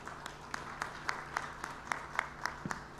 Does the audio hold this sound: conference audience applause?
yes